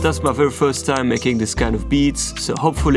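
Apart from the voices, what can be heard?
None of the usual background noises is heard.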